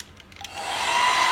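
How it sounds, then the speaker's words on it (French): A hair dryer switches on and quickly rises to a steady, loud whooshing hiss, used to heat the screen of an iPhone 8 Plus during a touchscreen replacement, close to the mic with no talking. "Allez, sèche-cheveux."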